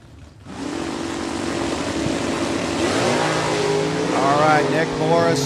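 Super Stock drag race cars, a Cobalt and a Mustang, rev loudly at a drag strip, engine roar building steadily from near silence with rising and wavering pitch, under a track announcer's voice.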